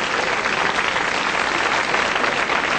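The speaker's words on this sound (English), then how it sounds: "Let's give her a round of applause to get her up." A comedy club audience applauds a volunteer being called up on stage, loud, dense and steady clapping that fills the room without a break.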